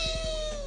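A cat meows in a short, fairly close call that slides downward, a single cry with no talk over it.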